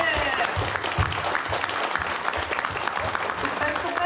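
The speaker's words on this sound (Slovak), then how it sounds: "obrovský potlesk ľudí" Mothers' Day kindergarten event audience clapping, a dense ragged patter of many hands with voices mixed in.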